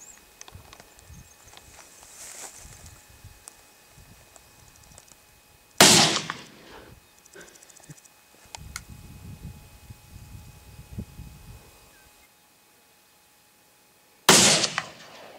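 Pistol shots fired outdoors in Montana, two sharp loud cracks several seconds apart with quiet rustling and faint movement between them.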